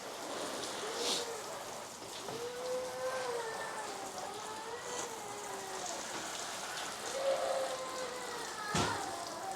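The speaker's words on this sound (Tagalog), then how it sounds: "Kasi nag-uulan-ulan pa rin." Steady rain patters on a surface throughout, with a faint tonal hum in the background and a couple of louder knocks, near a Honda ADV 160 scooter.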